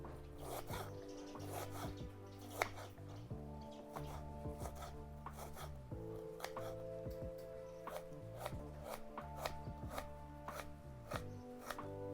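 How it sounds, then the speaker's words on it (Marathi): Knife chopping onion on a board, a steady run of sharp close taps repeating quickly and evenly throughout, with a faint background hum and no talking. "कांदा पण कापून घेते"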